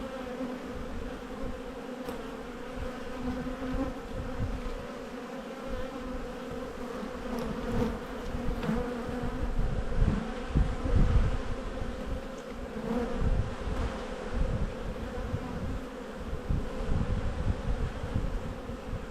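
Honey bees hum steadily at an open white hive crowded with brood frames, a dense, even drone of many wings up close and continuous throughout.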